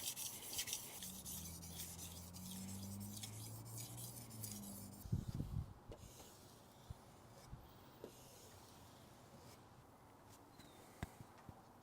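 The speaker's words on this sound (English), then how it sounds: "I start out with a fairly rough stone to establish my edge and create the burr, then polish it down with a 1000 grit stone" A chef's knife blade is sharpened on a rough whetstone, with steady rhythmic rasping strokes for several seconds, then a few scattered scrapes and taps.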